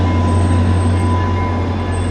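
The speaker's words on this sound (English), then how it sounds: "it might be kind of loud here because I'm at the train station" Loud, steady rumble and hum of a train at a train station, with continuous low droning and a faint high whine throughout and no talking.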